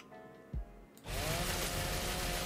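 A chainsaw in the ARK Survival game starts up after a short thump and runs as a loud, steady, buzzing drone that holds for over a second without pause.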